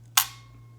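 The shutter of a NASCAR-themed 35mm film camera fires once, giving a single sharp, close mechanical click with a short fading tail. There is steady low hum in the background.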